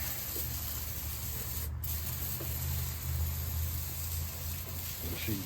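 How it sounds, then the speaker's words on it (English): Degreaser sprays steadily onto a truck engine in a continuous, fairly quiet hiss from a nearby can, with a low background hum and no talking. "Just spraying it very liberally."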